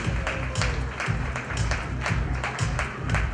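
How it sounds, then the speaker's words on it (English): Audience applause at a fashion show welcoming the chief patron, a dense steady wash of many hands clapping near and loud throughout, with a low rhythmic music beat running underneath. "Please welcome her with a huge round of applause"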